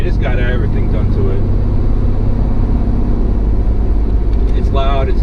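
A supercharged LT1 engine in a 1995 Firebird Trans Am, running about 12 pounds of boost through an aftermarket exhaust, idles loud and steady up close, a constant heavy rumble with a person talking briefly at the start and end.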